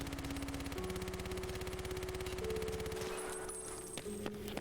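Rapid automatic fire from a PPSh submachine gun in the video game Escape From Tarkov, a dense unbroken burst rattling continuously for about three seconds, then a few scattered shots and trailing echoes, loud and close.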